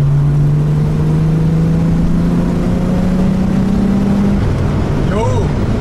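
A VW VR6 engine, reportedly running rich, revs briefly on a throttle blip in third gear around 3500 rpm. A loud, steady engine drone rises slowly in pitch, then falls away with a short whine near the end, and no one talks.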